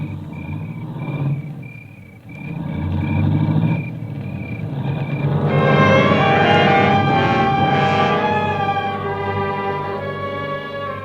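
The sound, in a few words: car driving away, radio drama sound effect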